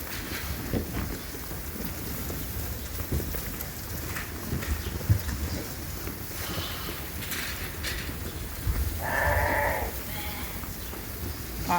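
Lambs in a barn pen during night chores, with steady rustling and shuffling and a brief clear bleat near the end over a constant background hiss.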